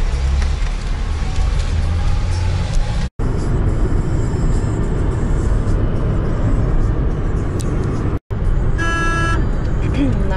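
Heavily loaded trucks hauling marble rumble along a road in India near Ajmer, a continuous loud engine and traffic roar with car horns tooting, plus a higher tonal horn blast near the end.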